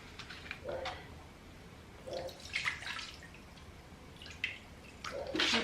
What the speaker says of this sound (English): I poured that much water in.